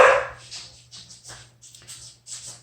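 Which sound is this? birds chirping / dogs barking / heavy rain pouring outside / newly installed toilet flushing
dogs barking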